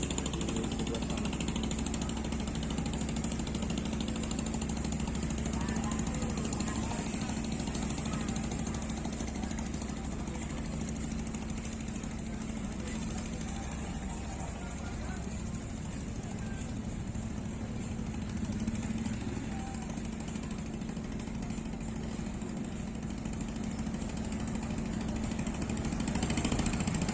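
Motorcycles rolling off a ferry at Balikpapan, engines idling and revving together in a steady, dense mechanical drone with a low hum underneath, continuous throughout.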